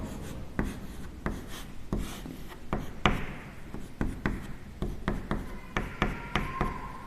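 A teacher writes on a board during a chemistry lesson: a close, steady series of short tapping and scratching strokes with small pauses between them, and no voices.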